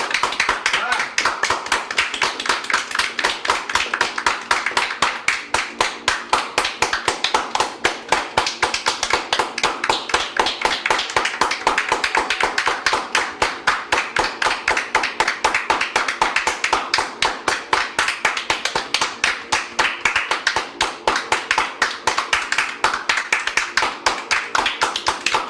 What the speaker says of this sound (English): Guys, round of applause. Everybody clap.